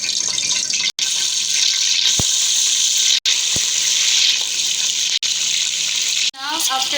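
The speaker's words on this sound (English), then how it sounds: "Our oil is enough hot. I'm gonna add the eggs one by one." Eggs added one at a time to hot oil, cooking for egg biryani, give a steady, close, bright sizzle with a few brief breaks as each one lands.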